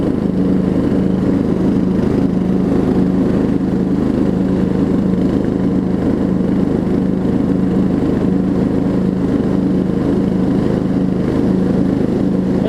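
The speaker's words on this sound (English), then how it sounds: "Motor runs really, really good." A $25 Murray riding mower fitted with high-lift blades runs steadily at close range, its engine drone constant and unbroken throughout with no talking.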